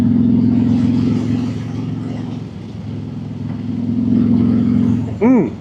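A trike with a 117 motor rides along, its deep, steady engine drone holding close and loud, easing slightly mid-ride before swelling again and rising in pitch at the very end.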